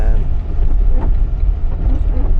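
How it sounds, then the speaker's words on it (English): Vehicle engine braking on a mountain descent, a steady low engine drone dominating throughout with wind rumble over the microphone, no voices. "Just engine braking all the way down."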